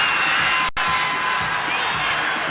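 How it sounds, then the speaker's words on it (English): Antrim hurling supporters at Croke Park applaud and cheer in a dense, steady roar of clapping and crowd noise, loud and continuous with a brief dropout early on. "The Antrim supporters standing on their feet, applauding their team"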